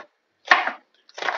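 Garlic cloves being chopped with a knife while making a Turkish green lentil dish, heard as two close bursts of rapid chopping separated by a short pause.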